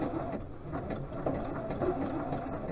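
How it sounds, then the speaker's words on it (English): A Janome C30 sewing machine runs steadily while sewing a satin stitch across one edge of a buttonhole, a continuous close whirring motor drone with fine rapid needle patter and no pauses. "So now that's going to do the satin stitch across to finish off the one edge of the buttonhole."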